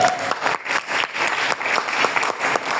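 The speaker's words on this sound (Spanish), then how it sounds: "Entonces, José se dio un fuerte aplauso al Señor." Congregation in a church service bursts into loud, sustained applause, dense overlapping clapping from many hands filling the room steadily without a break.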